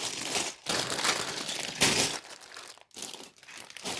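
A plastic Lego parts bag is torn and crinkled open in several bursts of loud, close crackling, with short pauses between pulls and no talking.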